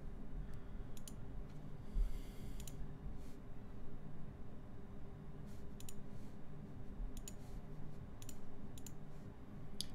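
Typing on a KBDfans KBD8X MKII mechanical keyboard produces quiet, irregular key clicks in scattered clusters over a low steady background hum, with no talk.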